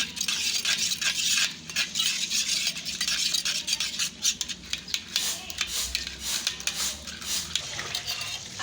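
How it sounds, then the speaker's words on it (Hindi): Yogurt mixed with spice powder is whisked in a bowl for a beef paya recipe, a fast scraping, clinking rhythm close by that keeps going steadily with no voices. "इसको हम फेंटेंगे।"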